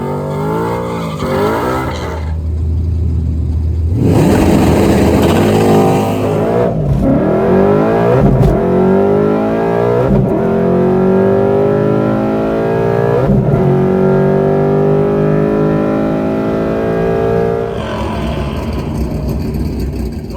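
A Coyote-swapped S197 Ford Mustang makes a drag racing pass at Bradenton, its V8 roaring loudly as it climbs through the gears while the tires squeal and spin, then fading as the run ends.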